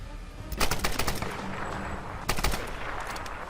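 Rapid bursts of automatic gunfire in the video game Tomb Raider, two sustained volleys separated by a pause, loud and close over a steady noisy background.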